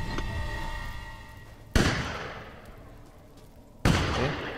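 Two sharp, loud bangs a couple of seconds apart, each followed by a long decaying rumble, gunshots fired in the video game Resident Evil Village.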